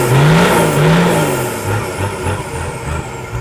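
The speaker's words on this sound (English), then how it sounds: "The 12 HT, geez, they sound beautiful in a 40 with the right exhaust system." A Toyota 12HT diesel in a 40-series Land Cruiser revs loudly through its exhaust system, rising and falling, then settling into a throbbing idle.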